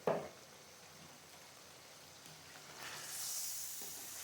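Ginger garlic paste hits hot vegetable oil in a pan for kofta curry, giving a faint, thin sizzle that swells into a steady soft hiss toward the end, with no voices.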